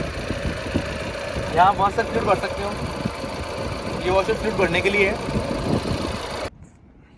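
A Tata Nexon's 1.5-litre four-cylinder diesel engine idles steadily up close with a rough, knocking rumble while someone talks over it, and the sound drops away abruptly near the end.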